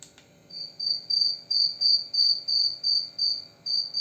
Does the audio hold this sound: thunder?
no